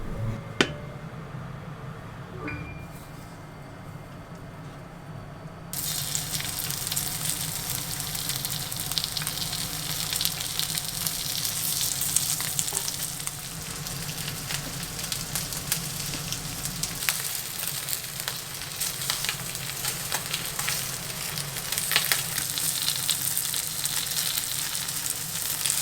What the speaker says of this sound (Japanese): フライパンに油をひいて鮭を並べて両面焼いていきます